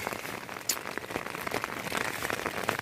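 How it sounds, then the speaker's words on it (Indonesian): Steady rain patters on surfaces outdoors during a stormy road trip, a soft continuous hiss with scattered drop taps and one sharper splash. "Wah, kita terjebak hujan."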